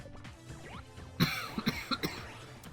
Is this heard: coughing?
yes